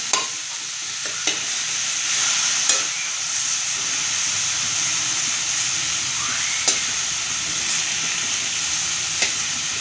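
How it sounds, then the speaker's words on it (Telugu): Tomatoes fry in a pan with a steady, moderate sizzle and hiss, broken by a few sharp clinks of a stirring utensil, with no talking. "ఇలా ఫ్రై చేసుకోవాలండి"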